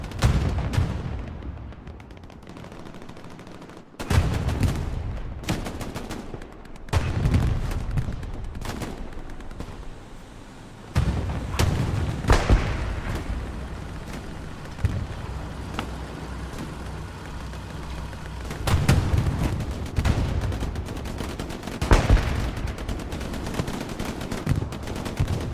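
Anti-tank guns fire at a tank in Hell Let Loose, mixing heavy booms with rattling gunfire and engine rumble across a loud, busy battlefield, with repeated sharp blasts and no talk.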